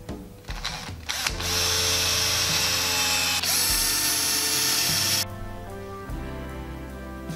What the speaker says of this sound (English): Mark them on the door and pilot drill.